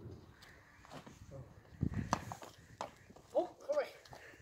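Horse hooves clopping on a stable floor as horses are led into their stalls at a harness horse breeding farm, a few uneven steps heard under people talking nearby.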